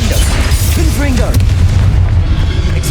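The Confringo fire spell bursts in Hogwarts Legacy as a loud, heavy boom that rolls on with a sustained low rumble, and a voice calls out over the blast.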